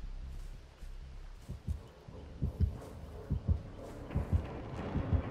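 Low, thudding heartbeat warning signalling the approaching killer in Dead by Daylight, double-pulsed beats growing steadily stronger and more regular over a soft rumbling background, with no talking.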